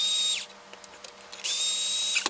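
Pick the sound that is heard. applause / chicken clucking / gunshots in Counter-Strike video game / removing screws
removing screws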